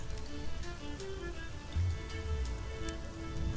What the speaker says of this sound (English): A light drizzle of silver rain brushes the village.